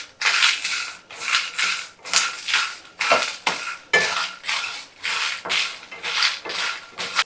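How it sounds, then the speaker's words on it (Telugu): Dried red chillies and peanuts frying in a pan while being stirred, giving a repeated scraping and rattling of spatula against metal in steady rhythmic bursts, close and fairly loud with no talk. "ఇప్పుడు ఎండుమిర్చి వేసేద్దాం అందులోకి"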